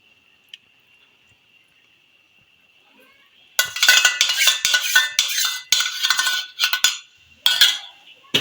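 After a near-silent start, a spoon scrapes and clinks around a pan as whisked yogurt is stirred into egg korma: close, busy bursts of stirring with short pauses.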